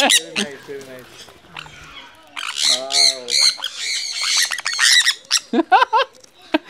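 Birds at a bird park during feeding squawk loudly and repeatedly nearby in harsh, rapid bursts, mixed with chatter and close voices talking over them.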